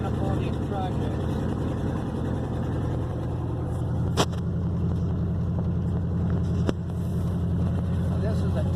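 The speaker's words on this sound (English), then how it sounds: "Oh, my exhaust is a little loud." Loud, steady engine and exhaust rumble from a 1969 International cabover truck with a loud exhaust, continuous throughout with two brief sharp clicks, while a person talks over it.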